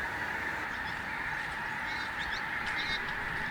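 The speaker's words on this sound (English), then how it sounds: "This time of year we get a lot of geese in this area, especially around Martin Mere" A flock of geese honks in the distance across the Martin Mere wetlands, faint calls scattered over a steady outdoor background.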